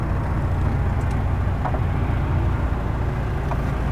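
An old Toyota Kijang with a modified engine and automatic transmission on a test drive, a steady loud engine and road rumble heard from inside the cabin, with no one speaking.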